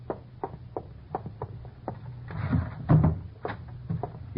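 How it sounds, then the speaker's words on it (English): A drawer in an old wooden bureau inside a closet slides open and shut, giving a brief rumbling scrape and a thud amid a run of quiet clicks and taps. "You pull out one of the drawers in the old bureau in the closet."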